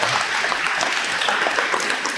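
Audience applause at a local law enforcement funding event welcoming the Lieutenant Governor, a dense, even roar of clapping close by and fairly loud.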